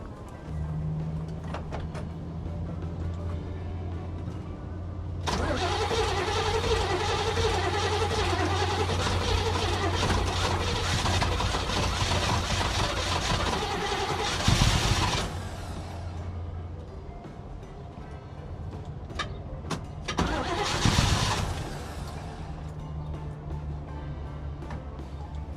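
A 1969 Camaro, abandoned in a back yard for 18 years and suffering carburetor trouble, cranks and tries to start. A loud, rough engine roar runs for about ten seconds, then a second short burst follows.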